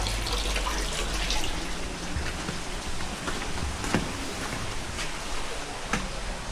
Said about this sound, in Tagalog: walang tigil yung pag-agos. Kasi sa bukal din kinukuha.